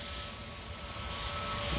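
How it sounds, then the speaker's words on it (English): A Vueling Airbus A320 jet taxiing at Orly airport gives a steady, faint engine whine and broad rumble, heard alone without a break. "That's a Vueling A320 taxiing is going to position straight away and ready"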